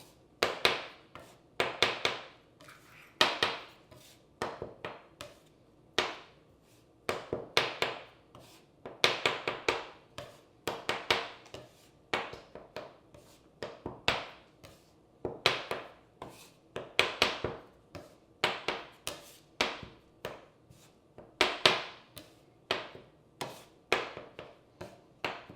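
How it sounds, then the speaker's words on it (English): A bench scraper chopping flour into lasagna dough on a work surface: a steady stream of crisp, close knocks and taps repeating in uneven bursts for the whole stretch, with no voices. "I'm gonna use my bench scraper. So I'm just gonna take it and kind of chop it in."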